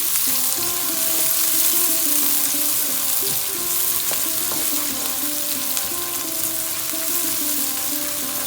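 Onions frying over a high flame for a chicken korma, a steady loud sizzle with occasional stirring scrapes running continuously, no talking.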